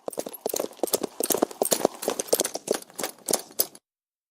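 Horse hooves clip-clopping in a steady, brisk walking rhythm, close and clear, alone for several seconds before stopping.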